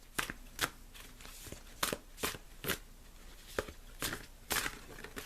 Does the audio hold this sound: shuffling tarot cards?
yes